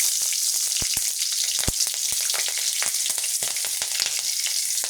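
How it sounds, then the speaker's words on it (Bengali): Cumin seeds and green chilies sizzle in hot oil, a loud continuous frying hiss dotted with sharp crackling pops, close by and with no talk. "এদিকে আমার তেল গরম হয়ে গেছে। আমি তেলে দেব ফোড়ন, জিরে আর আর দেব"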